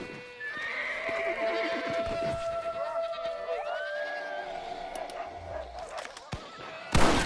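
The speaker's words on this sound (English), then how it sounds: "Maybe if I hang out with this goat." Goat bleating in the Red Dead Redemption: Undead Nightmare game world, heard against wavering animal cries, horse neighs and hoof clip-clop, with a sharp loud burst at the very end.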